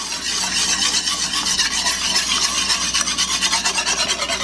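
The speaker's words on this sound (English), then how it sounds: "I'm gonna whisk this for about 2 minutes until it thickens up" A whisk scrapes briskly and continuously through a thickening roux sauce of warm milk, flour and butter, a steady raspy rubbing close up with no talking, made while cooking a Philly-style mac and cheese.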